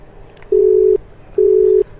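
Telephone ringback tone heard before a call connects, two steady electronic beeps of about half a second each separated by a short pause, loud and clear over faint background hiss.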